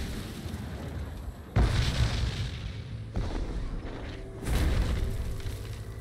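Bombard cannon firing in Age of Empires IV, three heavy booms spaced a second or two apart, each a loud low burst with a lingering rumble over steady background noise.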